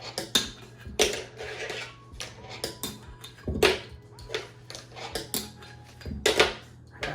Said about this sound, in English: what if I just frontside flip off the whole thing?